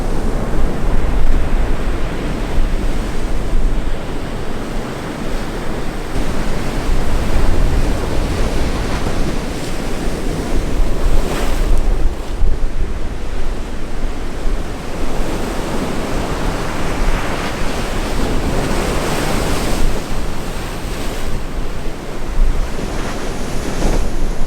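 Pacific Ocean surf breaking on the Baja California coast, a steady loud wash of waves with rolling surges and wind buffeting the microphone, no voices throughout.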